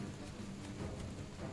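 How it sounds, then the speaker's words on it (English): A rain downpour in Monster Hunter World, a steady dense wash of falling rain with a low rumbling undertone, quiet and continuous throughout. "And the downpour itself too."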